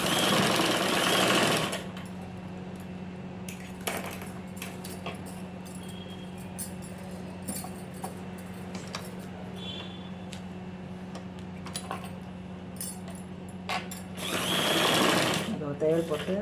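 A sewing machine hums and stitches steadily along a lined blouse, a continuous mechanical drone that runs for most of the span, with a voice talking at the start and end.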